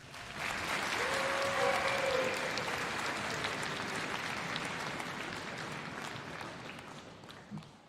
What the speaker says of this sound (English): I want to give them a big round of applause